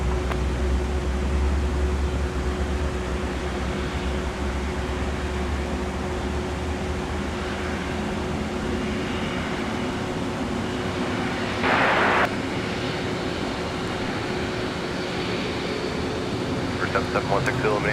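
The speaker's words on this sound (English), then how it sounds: "Let me know if you folks could hear that engine start from all the way over here." A Rolls-Royce Trent 7000 jet engine starting at Minneapolis–St. Paul airport, heard from a distance as a steady, broad roar and hiss that fills the whole stretch, with a brief louder burst partway through.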